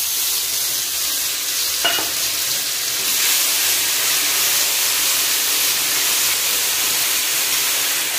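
Ground poppy seed, white mustard and green chilli paste fries in hot oil with cumin and dried red chilli, giving a steady loud sizzle and hiss with light stirring throughout and one brief scrape near the start.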